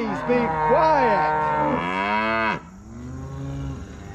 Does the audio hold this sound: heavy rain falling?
no